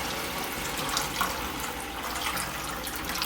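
Water pouring into a pot of rice with vegetables for a Macedonian rice dish, a steady, close rushing splash with no talk.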